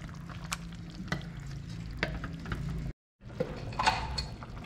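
Stirring chicken and potatoes in a pot of chicha de jora, a steady scraping and sizzling churn with a few sharp clinks, close and fairly quiet, briefly cut to silence midway.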